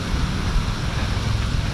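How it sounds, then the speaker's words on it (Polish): Light, warm wind on Siquijor island makes a steady, broadband rushing hiss with a low rumble, constant and fairly loud throughout, with no voices. "Teraz jest trochę wiaterek, ale ten wiatr ma 39 stopni"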